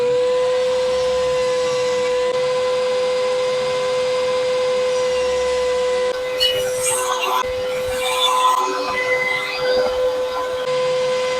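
A saw blade cuts the edges of wooden planks for a wooden mallet. A steady, high mechanical whine holds throughout, and rougher, louder cutting bursts come through in the second half.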